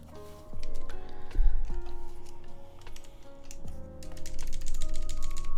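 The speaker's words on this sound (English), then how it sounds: "that's just the way the spacebar sounds in this" Spacebar on a Keycult No. 2 mechanical keyboard being pressed repeatedly, giving close, clacky thuds at an irregular pace over a low background hum.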